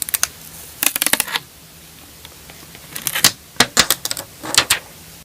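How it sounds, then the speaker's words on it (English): Sharp crackling and ticking bursts from adhesive being peeled off an iPhone SE part during a repair, coming in several clustered runs close up, with quiet gaps between them. "I'm gonna peel this off."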